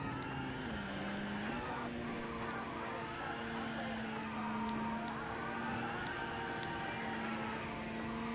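Engine of a stock-engined car revving hard with VTEC engaged in the racing game Initial D Extreme Stage, a continuous loud whine with pitch shifting as revs climb, mixed with game sounds and no one talking.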